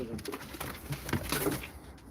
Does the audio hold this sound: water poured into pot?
no